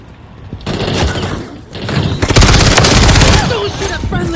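Rapid automatic gunfire rattles loudly and close in a Call of Duty Black Ops 6 match, bursts layered with thuds and booms, while voices shout over the shooting.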